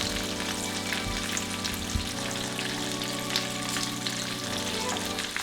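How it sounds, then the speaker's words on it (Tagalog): Chicken nuggets frying in hot oil give a dense, continuous crackling sizzle with scattered pops, steady and close, with no voices. "fry nyo yan for 3 to 4 minutes"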